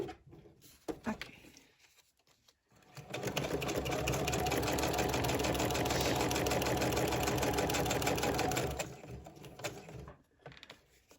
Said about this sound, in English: I just made a very simple straight stitch for this one.